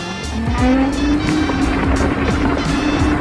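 A Ninebot Gokart Pro electric go-kart slides through turns, its tires squealing and skidding loudly over a steady whining electric motor tone, close and continuous with no talk.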